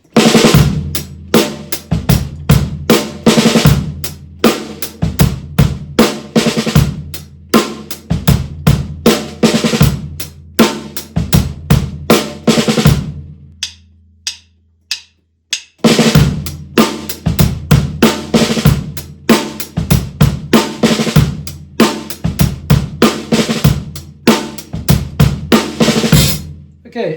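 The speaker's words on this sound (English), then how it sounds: "this is what it's going to sound like in the groove" A full drum kit groove built around five-stroke rolls, with steady kick and dense snare and cymbal strokes played loud and close; the pattern pauses briefly midway, then resumes at the same driving pace.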